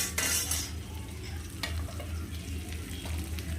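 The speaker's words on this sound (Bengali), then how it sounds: "তারপরে ভালো করে নাড়াচাড়া দিয়ে নেব তেলের মধ্যে" Ginger, garlic, onion and chili frying in oil while being stirred, for a bhorta: a soft, steady sizzle with occasional scraping strokes and a low hum underneath.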